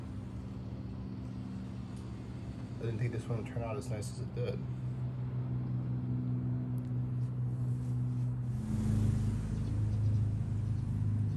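Cars roll past on a road outside a porch, a low steady rumble that swells into a louder pass near the end, with a person talking over it early on.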